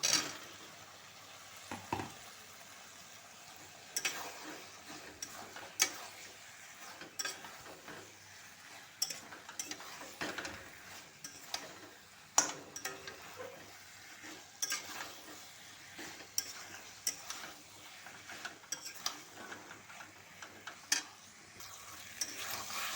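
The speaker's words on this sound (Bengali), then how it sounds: "তো বন্ধুরা মশলা আর আলুগুলা ভালোভাবে কষা হয়ে গেছে" Fried potatoes and spices being stirred in a pan for a fish curry, giving a faint background sizzle with repeated scraping and clinking of a spoon against the pan.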